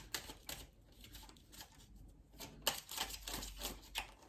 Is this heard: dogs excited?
no